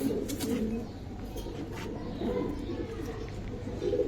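Giribaj pigeons coo softly in low, rounded bursts over a steady murmur of background voices at a pigeon market, fairly close by.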